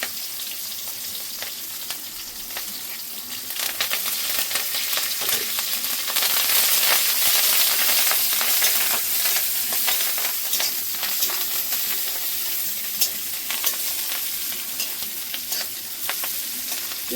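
Onions frying in oil with mustard seeds, dried red chilli, asafoetida and curry leaves for sambar, a continuous close sizzle with crackling pops and stirring, rising in intensity after a few seconds; no speech.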